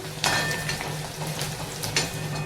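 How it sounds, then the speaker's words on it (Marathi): Finely chopped onions from three medium onions frying in oil in a pan, a steady close sizzle with occasional scraping and stirring clinks of a utensil against the pan, no talk. "कांदा आपला थोडासा लाल होईपर्यंत आपण भाजून घेऊ"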